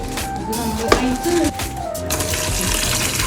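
Water pours steadily into a pressure cooker packed with beef bones, a close splashing rush with a few clinks of utensils and a continuous liquid fill.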